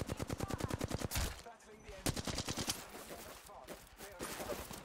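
Rapid automatic gunfire in Apex Legends, dense bursts of repeated shots that rattle loud and close, broken by brief pauses, with faint voices underneath.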